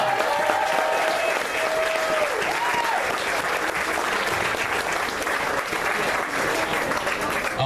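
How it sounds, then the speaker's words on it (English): Applause from a crowd at a Collin County Democrats gathering, sustained loud clapping with some voices and whoops over it, continuing without a break. "can we get one more round of applause?"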